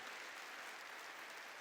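A church congregation claps together during a sermon, a brief dense burst of applause that holds steady and fills the room, heard without any voices.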